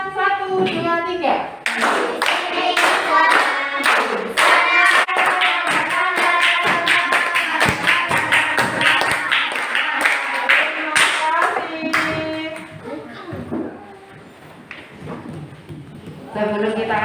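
Children clap their hands steadily along with a sung classroom song led by a teacher, a busy rhythmic patter of claps under loud group singing and voices throughout.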